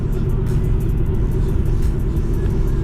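Steady interior road rumble from a Ford Mustang rolling over a bumpy road, a continuous loud low drone with small jolts and no talking.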